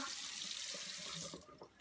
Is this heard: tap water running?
yes